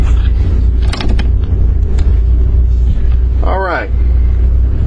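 A 1994 Holiday Rambler Vacationer motorhome idles and begins driving, its engine a deep, loud, steady rumble while someone speaks briefly over it.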